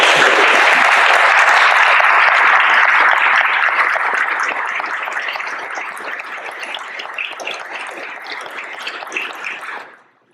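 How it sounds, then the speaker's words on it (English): Audience at a school committee meeting gives a round of applause, loud and dense at first, then thinning gradually before stopping abruptly. "And I think that would deserve a round of applause."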